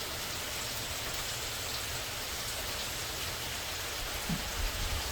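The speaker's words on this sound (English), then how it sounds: "Here we go again. It's raining." Steady rain falls and patters on surfaces, a dense even hiss with no voices.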